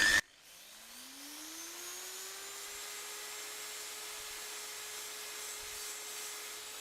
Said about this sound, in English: Then you polish a little bit.